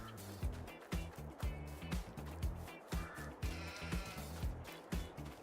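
Sheep bleating in the Farming Simulator 22 farm game, several overlapping calls repeating in a steady rhythm of short bursts, fairly close and moderately loud over a low background hum, no talking.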